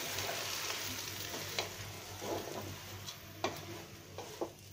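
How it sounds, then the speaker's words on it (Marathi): Washed basmati rice sautés in a pan for veg pulao, with a continuous close sizzle and a few sharp clicks and scrapes of stirring. "तांदूळ धुतलेला आहे ना बासमती तो घालायचा आहे आणि हा सुद्धा ना आपल्याला चांगला परतून घ्यायचा आहे"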